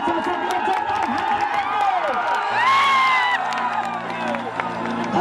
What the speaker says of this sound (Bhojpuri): तो मैं चाहता हूं कि जोरदार ताली बाजे हमारे चाचा के लिए जोरदार